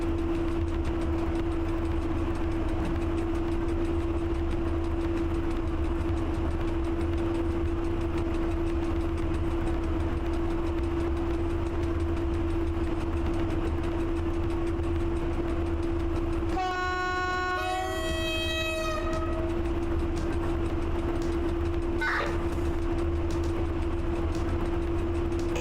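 A locomotive in a video game hauls a heavy train with a steady low engine drone, then sounds a loud multi-tone horn for about two seconds, followed by a brief, fainter second toot.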